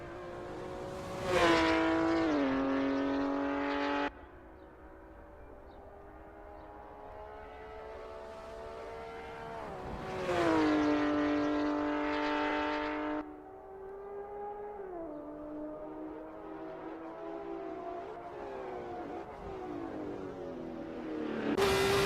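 Race car engines lap Sebring in 1966 trim in Assetto Corsa, a loud harmonic whine climbing through the gears in repeated bursts, cutting out at shifts as another car roars past near the middle, then a steady drone settling at lower pitch.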